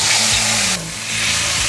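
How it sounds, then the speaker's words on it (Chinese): Tofu stir-frying in oil in a pan, a close bright sizzle with a few stirring scrapes and a short dip in intensity midway, no talk. "来回翻炒，把豆腐的水分炒翻到像纸的状态"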